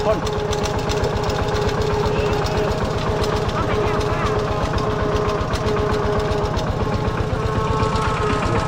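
A tractor engine runs at a steady idle-like chug, loud and close, with a regular rhythmic thump continuing throughout, and a voice speaking at moments over it.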